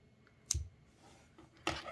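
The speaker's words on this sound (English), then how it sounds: "snip off the excess." Scissors snip off excess yarn from a small crocheted octopus amigurumi, giving two short, crisp cutting clicks spaced about a second apart, close and fairly quiet with no talking.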